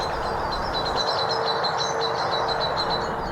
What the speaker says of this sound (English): Oh, that was a snatch of nightingale.